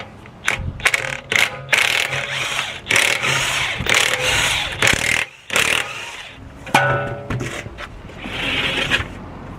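Rear wheels are taken off a BMW, with repeated bursts of an impact wrench buzzing and rattling on the wheel bolts, close and loud, separated by short pauses and metallic clanks.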